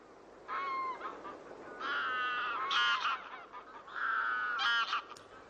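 A flock of greylag geese wintering at the Villafáfila lagoons honks in loud, overlapping bursts, several nasal calls in quick succession with short gaps between, fairly close and without talk.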